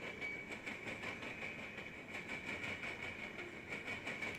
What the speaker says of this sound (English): As we have the rear of our train approaching.